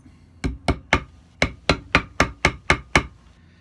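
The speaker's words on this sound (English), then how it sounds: "I get one of these hammers with the Teflon tip," A Teflon-tipped hammer taps a fret into the fretboard of a cigar box guitar, striking about nine times in a steady, evenly spaced rhythm. The close, crisp blows stand alone with no talking.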